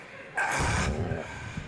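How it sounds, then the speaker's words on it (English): A dog gives one close, loud bark followed by a shorter second yelp, then a faint whine against a quiet background. "Silly dog."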